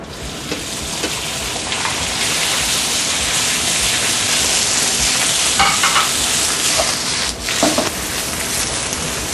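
Loud, continuous sizzling from a hot wok as noodles are stir-fried, with occasional scraping and tossing sounds over the hiss.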